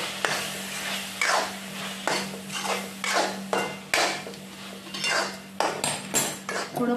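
A metal spoon stirs masala into prawn rassa in a pan, making about a dozen sharp scraping clinks in an uneven rhythm, close and moderately loud over a faint steady hum.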